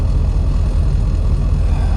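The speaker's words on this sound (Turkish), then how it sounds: "Otobüs yolculuğu başlıyor." A bus engine's steady, loud low rumble drones continuously from close by, with no pauses or voices.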